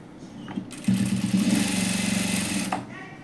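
A sewing machine stitching fabric for a size-40 princess-cut blouse runs in a steady, close, buzzing burst of about two seconds, with rapid needle pulses, after a quiet lead-in.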